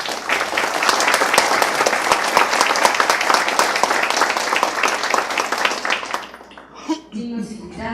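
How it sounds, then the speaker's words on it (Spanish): An audience at a formal book presentation applauds loudly and steadily for about six seconds, the clapping then cutting off as a voice resumes speaking. "a quien nos saludamos con un fuerte aplauso"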